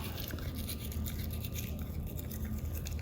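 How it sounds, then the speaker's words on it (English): Toothbrush bristles scrub a dog's back teeth, a close, steady, scratchy brushing that continues without a break. "Moving the toothbrush into his back."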